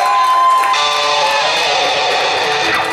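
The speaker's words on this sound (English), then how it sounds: "Let's give a round of applause." A pub crowd cheers, whoops and applauds after a band's set, a dense, loud, steady roar with ringing feedback or guitar tones running underneath.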